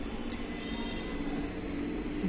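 A multimeter in continuity mode gives a steady high-pitched electronic beep while its probes touch a laptop motherboard. The tone holds unbroken throughout over a low background hum.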